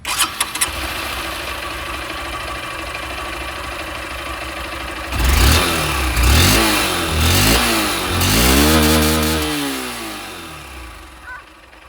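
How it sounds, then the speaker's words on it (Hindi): A Honda SP160 motorcycle engine cranks and catches, settles into a steady idle, then revs up and down several times in rising and falling sweeps, close and loud with no talking. "और अब मैं आप लोगों को यहाँ पर SP 160 की भी आवाज़ सुना दूँ।"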